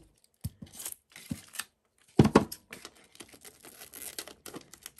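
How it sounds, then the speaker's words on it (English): Scissors snipping through a small piece of Tyvek in short papery cuts, with one louder crisp burst of cutting in the middle, close up and alone without talk. "do just a small piece like this and cut it in half"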